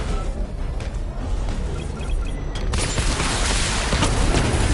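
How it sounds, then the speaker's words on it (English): Missile barrage firing in the Batman Arkham Knight video game, a rapid run of booming launches and explosions that swells into a loud, dense rumbling roar near the end. "Barrage level 2 ready."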